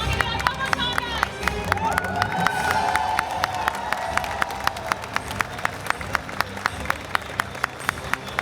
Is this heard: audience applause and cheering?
yes